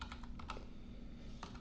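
Rapid keystrokes on a computer keyboard while entering commands on a Minecraft server, a quick irregular run of clicks heard alone and close against a low steady hum.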